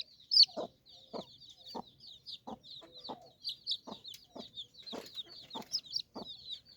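Chickens and a white rooster cluck in short repeated bursts, with steady high chirping from other birds running underneath throughout.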